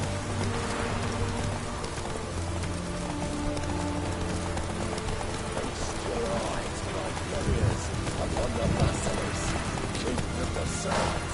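Steady clip-clop of a horse galloping in The Witcher 3 video game, continuous hoofbeats under ambient game sound, with a voice speaking at moments.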